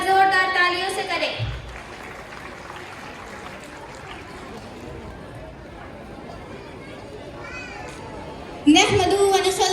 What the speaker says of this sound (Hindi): इनका इस्तकबाल जोरदार तालियों से करें।